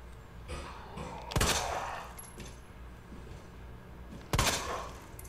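Two sharp gunshots ring out in the Resident Evil 2 Remake video game on PS4, a few seconds apart, fairly faint against a quiet game background.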